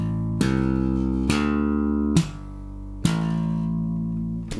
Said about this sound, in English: we'll begin by just playing quarter notes. So it's one note on each beat. With rest stroke.